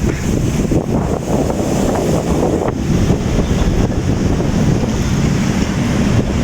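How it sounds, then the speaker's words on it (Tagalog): Loud, steady wind roaring and buffeting against the microphone, continuous for the whole stretch with no voices. "Malakas ang hangin, malamig."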